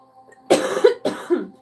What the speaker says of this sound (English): Keep coughing, which is so weird.